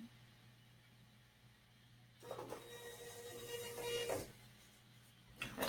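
A label printer outputs a chain-of-custody seal label: after a quiet background hum, a faint whirring feed of a few seconds runs up close, followed by a short mechanical click at the end.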